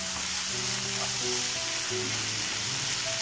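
Chili powder stirred into a drumstick masala in a hot pan, with a steady dense sizzle and faint scraping of the spoon running throughout, close and continuous with no talk.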